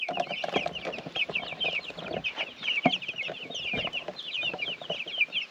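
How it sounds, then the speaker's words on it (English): A flock of young American breast chickens clucks and chirps steadily in a brooder, a dense run of short, high, overlapping calls held close and moderately loud with no voices. "we got some American breast chickens"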